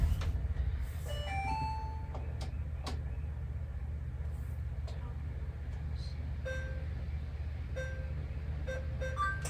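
A household washing machine starts up with a series of short electronic beeps and a rising chime, clear tones spaced over several seconds above a low steady hum.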